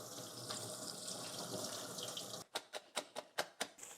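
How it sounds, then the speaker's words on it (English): Large perilla leaves being washed under a running kitchen tap, a steady wash of water for a few seconds, then a series of sharp splashy bursts as the leaves are rinsed and shaken. "Wash large perilla leaves"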